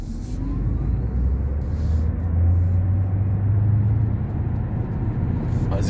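A Honda e electric car accelerates from inside the cabin. A low rumble of road and motor noise builds steadily and holds, and a faint electric whine rises in pitch as speed picks up.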